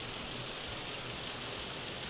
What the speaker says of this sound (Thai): ผู้ชมดูฝนตกหนักจริงนะ หนักมากๆเลย